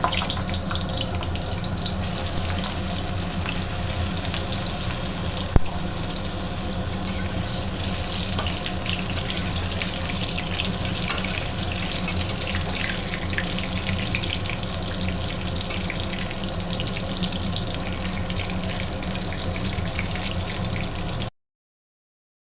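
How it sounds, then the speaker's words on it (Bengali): Potatoes coated in salt and turmeric fry in hot oil for a Kolkata-style chicken biryani, giving a steady, dense, continuous sizzle that stays even and close throughout, with no talking. "এবার এই তেলেই নুন হলুদ মাখিয়ে রাখা আলুটাকে লাল লাল করে ভেজে নেব।"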